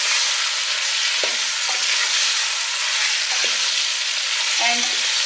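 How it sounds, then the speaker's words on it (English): Chicken fries for Tajik plov, a loud, dense, steady sizzle with several soft scraping stirs of a utensil spread through it, no voices. "So as you see, the chicken is already nicely fried"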